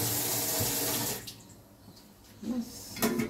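Water gushes into a cooking pan for papaya chutney: a steady, loud rush for about a second, then a quieter trickle and a couple of short splashes near the end.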